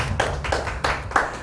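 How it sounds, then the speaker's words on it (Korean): A church congregation claps in a few broad, rhythmic bursts, crowded and reverberant, loud and close, with no speech over it. "우리 주님께 박수 영광 돌립니다"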